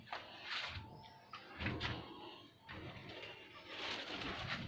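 Pigeons on a rooftop coop coo softly at close range in a few low, rolling calls, with faint knocking and shuffling sounds between them.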